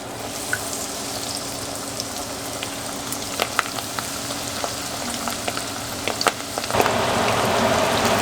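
Iguana meat frying in hot oil, a steady close crackling sizzle with scattered sharp pops, swelling louder near the end; no talking.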